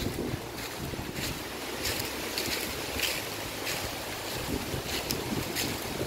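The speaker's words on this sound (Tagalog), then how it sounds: "Malakas ang hangin." Strong wind from Typhoon Kristine in the Philippines roars steadily into the microphone, a constant heavy rush with gusty buffeting, with no voices.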